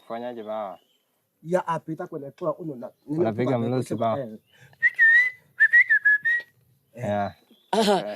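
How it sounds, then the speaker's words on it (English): A voice talks in bursts, then short shrill whistled notes, used to communicate over long distances in Africa, ring out in a few quick phrases before speech resumes. "they communicate from distances by whistling"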